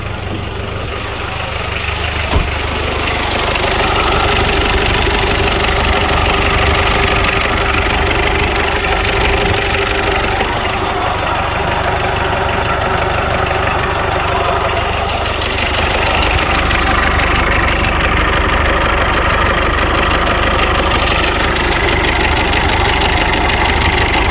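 Chopped Mitsubishi Pajero with a 4D56T turbo diesel, freshly started and running loud and close, a rough knocking idle with low droning rumble that builds after a couple of seconds and holds steady.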